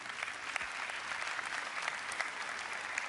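Audience applause at the close of a talk, a dense, steady wash of clapping hands from a sizeable crowd filling the whole stretch with no voices over it.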